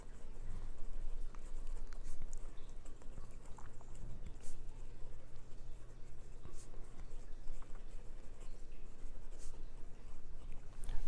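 Platinum PTL 5000A fountain pen nib scratching lightly across paper, a soft, continuous faint scraping texture with small irregular strokes, close and quiet, over a low steady hum.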